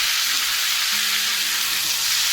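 Potatoes frying in a pan give a loud, dense, continuous sizzle with no pauses, close and alone without any voices.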